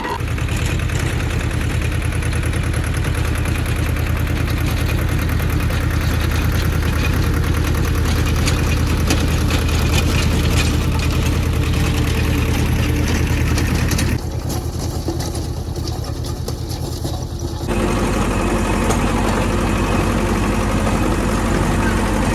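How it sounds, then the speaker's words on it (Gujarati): A tractor engine runs steadily while driving a rotavator in a farm field, a loud, constant diesel rumble that dips briefly partway through, then resumes. "હવે આપણે ટ્રેક્ટર ચાલુ કરીને લોટરી મારવાનું ચાલુ કરી દઈએ।"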